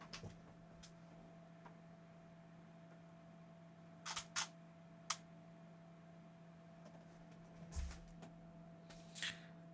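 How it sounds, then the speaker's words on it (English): A camera's shutter button is pressed in a quiet room during a colour-trails photography shoot, giving a handful of sharp, irregularly spaced clicks over a faint steady electrical hum, with no talking. "I'm just going to randomly press the shutter button and we'll see what happens."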